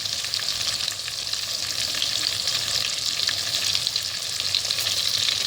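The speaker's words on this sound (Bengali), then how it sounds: "এই পেঁয়াজটাকে আমরা লাল লাল করে ভেজে নেবো" Chopped onions fry with sugar in a pan for mutton curry, a dense, even sizzle that hisses steadily and loudly without pause, with no voices over it.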